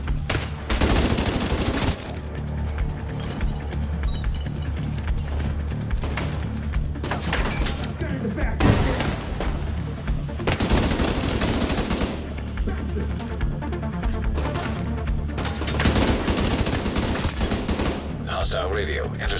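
Heavy gunfire in the video game The Division 2, with dense bursts of automatic shots and booming impacts running almost nonstop, loud and close, with brief pauses and a voice in the mix.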